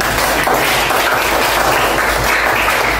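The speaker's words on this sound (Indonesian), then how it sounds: "Tepuk tangan buat Obed dan Aufar" Classroom applause for two students, a close, loud and continuous patter of many hands clapping steadily for a few seconds.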